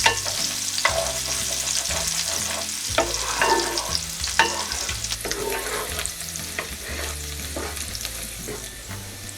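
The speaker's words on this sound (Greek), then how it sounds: "Θα σοτάρουμε το σκόρδο για 1 λεπτό μόνο." Garlic sautéing in a hot pan for a honeyed, wine-braised pork casserole, a loud steady sizzle with repeated stirring scrapes throughout.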